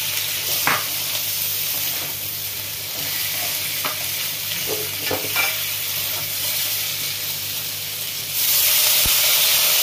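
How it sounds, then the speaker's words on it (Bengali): Eggplant pieces added to a simmering fish curry with bori in oil, giving a steady loud sizzle and hiss with occasional stirring scrapes, the frying noise swelling sharply near the end. "এবারে বেগুন দিয়ে দিচ্ছি।"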